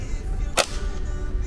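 A single shot fired at a target at a shooting range, a sharp close crack with a brief tail over a steady background hum.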